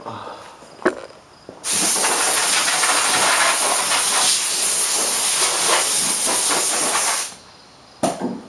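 Compressed air blasts steadily off a scuffed car body panel during auto body prep for painting, a loud continuous hiss lasting several seconds after a short click, then cutting off.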